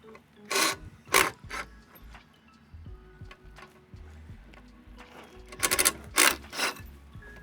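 Bolts on heavy wooden front porch stairs are loosened with a hand tool, giving scattered close ratcheting clicks and scraping metal turns in short bursts separated by quieter handling noises.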